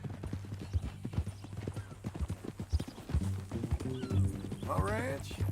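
A horse in Red Dead Redemption 2 clip-clops at a walk with close, distinct hoof strikes, then gives a short whinny near the end, while people talk over it.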